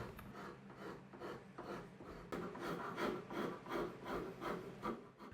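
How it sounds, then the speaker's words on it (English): A rasp rounds over the squared sides of a walnut mallet's tongue in steady, repeated filing strokes, close and fairly loud, with a scratchy rhythmic rub and no talk. "I then used a rasp to get a nice round over for the squared sides of the tongue"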